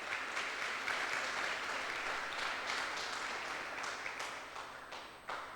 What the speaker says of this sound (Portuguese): Dê uma salva de palmas aí ao Senhor.